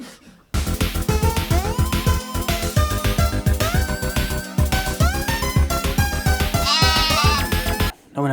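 Goat bleating repeatedly in loud, wavering cries, one call after another with brief gaps, close and alone with no talking.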